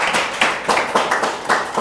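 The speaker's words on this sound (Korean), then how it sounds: "하나님께 영광의 박수를" A church congregation at a Sunday worship service claps in a quick, rhythmic beat, the sharp hand claps coming in uneven bursts close by.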